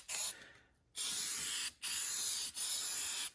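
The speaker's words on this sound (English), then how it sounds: "we're only spraying the substrate, not the veneer" Spray adhesive hisses from a rattle can onto the substrate for a veneer inlay in a woodworking shop. Four loud, close bursts come one after another, the first brief and the rest long, with short gaps between them.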